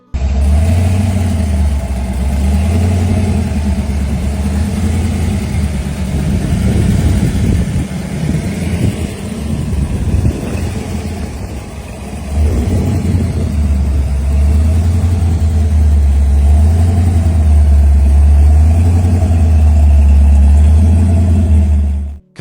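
A 1972 Chevrolet Nova Pro Street muscle car rumbles loudly and close at a heavy idle, with a few throttle blips raising the engine note mid-clip before it settles back into a steady, deep idle.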